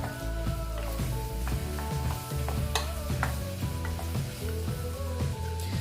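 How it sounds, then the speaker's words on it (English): Sausages brown in a frying pan with a constant loud sizzle, while a utensil stirs and scrapes them at a regular rhythm of roughly two strokes per second. "This doesn't take too long to brown off the sausages."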